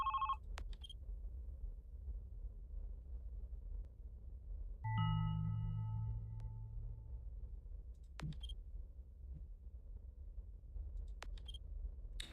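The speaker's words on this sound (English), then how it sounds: "That phone should not be ringing." A telephone rings at the front desk of a supposedly haunted building, caught on a surveillance feed. It gives a short ring at the start and a longer ring midway, both fairly faint in an otherwise hushed room with a few clicks.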